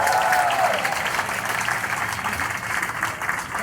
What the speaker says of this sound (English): Let's hear it for the race committee.